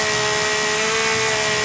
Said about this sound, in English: They've also adjusted the volume levels of the chainsaw